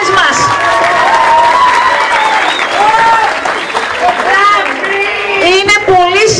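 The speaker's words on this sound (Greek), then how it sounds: "Ένα χειροκρότημα ακόμα." Applause for children at a school World Poetry Day event at a secondary school in Trikala, loud sustained clapping from an audience filling the room while a voice speaks over it.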